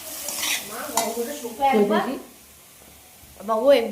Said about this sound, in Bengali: কড়াইতে তেল দিয়েছি গাছের লঙ্কা সমস্ত কিছু নিয়ে তৈরি করছি রাতের খাবার